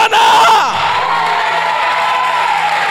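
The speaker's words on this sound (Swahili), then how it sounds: "mpigie tena Yesu makofi mengi na shangwe" Church congregation at a prayer service cheering and shouting loudly, a dense sustained crowd roar that swells at the start and holds steady for a few seconds, with no distinct clapping standing out.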